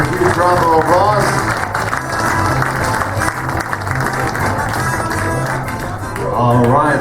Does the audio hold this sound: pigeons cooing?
no